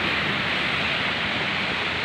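Sea waves wash in as a constant, broad rushing roar, loud and unbroken with no voices over it.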